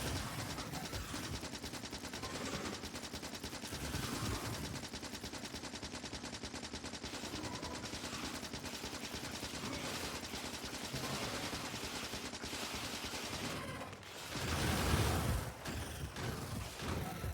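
Defensive turrets fire rapid, continuous bursts at biters in the video game Factorio on a death world, a dense machine-gun rattle that runs throughout and breaks into a heavier burst near the end.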